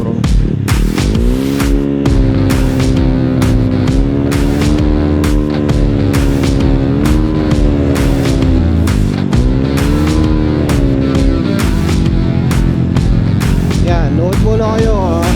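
A car on the road with its engine rising and falling through gears, loud and close, with music-like tonal bands and sharp clicks layered over the steady motor.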